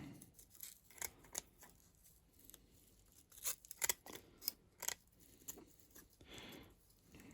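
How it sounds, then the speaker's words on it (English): Scissors snip quietly and irregularly as they trim hard horsehair off the brush bar of a Gtech AR01 Air Ram mk2 vacuum cleaner, with sharp close clicks over faint rustling. "Get your scissors and just trim it off."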